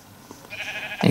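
A sheep bleats in the video game Minecraft, a short fairly loud bleat at the very end following a thin, faint tonal background.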